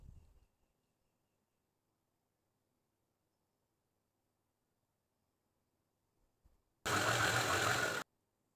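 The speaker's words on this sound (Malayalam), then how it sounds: "നമ്മൾ ആ ക്രോസിന് വരച്ചിട്ടില്ലേ, അത് നമ്മൾ അതുവഴി അങ്ങ് സ്റ്റിച്ച് ചെയ്ത് തുടങ്ങുക." A sewing machine stitches uniform trousers in a single loud, fast burst of about one second after near silence, its motor whirring close up with no talk.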